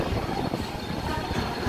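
A Mumbai harbour line local train pulls into Thane station, giving a steady, loud rumble of wheels and carriages with faint rhythmic rail clatter.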